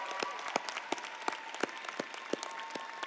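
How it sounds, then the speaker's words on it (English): Scattered applause at a university commencement ceremony honoring graduates' parents and supporters, with sparse individual claps standing out against a quieter background. "Let's give them a round of applause."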